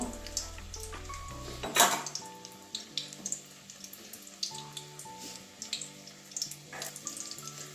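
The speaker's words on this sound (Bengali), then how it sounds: "এমনিতে ডিমটা আমার সিদ্ধ করা আছে ওইভাবে প্রত্যেকটা ডিমগুলো এভাবে ভেজে নেব" Hard-boiled eggs frying in a pan for a Bengali cauliflower-fritter curry: a steady sizzling hiss runs throughout beneath louder background music, with a sharp burst near the two-second mark.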